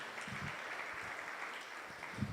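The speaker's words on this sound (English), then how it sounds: "A round of applause for us." Audience applause at an ISKCON memorial festival gathering, a steady wash of clapping held at moderate, even level through the whole moment with no voices over it.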